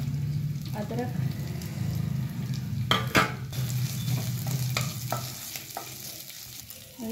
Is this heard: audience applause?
no